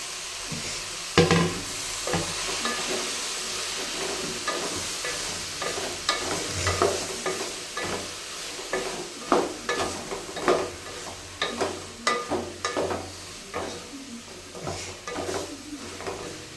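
Coriander and mint sizzle in a pan for vegetable rice, with a ladle repeatedly scraping and stirring against the metal in quick, uneven strokes over a steady frying hiss.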